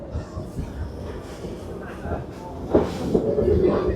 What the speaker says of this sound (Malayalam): ഇതോ ട്രെയിൻ വരുന്നു, ഇതോ അങ്ങനെ ട്രെയിൻ വരുന്നു